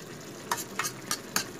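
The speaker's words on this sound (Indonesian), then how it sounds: "Kita tumis sampai agak kering dikit ini airnya ya, biar meresap." Salted fish stir-fried in a pan, with four short scraping strokes of a spatula over a soft, steady sizzle, close and fairly quiet, with no talking.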